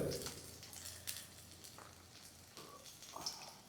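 Green chillies and garlic sizzle in a little oil, a soft steady frying hiss with a few brief stirring clatters, fairly quiet and close, no talking.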